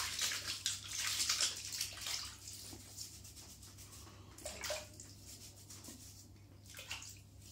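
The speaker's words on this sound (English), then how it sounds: "a little bit of water on the bristles" Tap water runs onto the bristles of a shaving brush, a continuous soft splash that is stronger at first and then settles into quieter trickling with a few brief surges.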